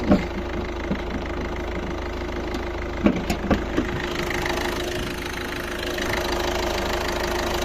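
A 1.6-litre diesel engine in a 2013 Peugeot 3008 with 365,000 km runs steadily with a low, rough rumble and a few sharper knocks near the start, heard up close with no talking.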